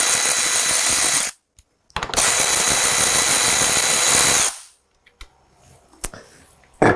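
Tool on two 10mm bolts holding a plastic piece on a 2021 or later Ford Bronco, heard as two loud, sustained close-up bursts of mechanical whirring followed by faint scattered clicks.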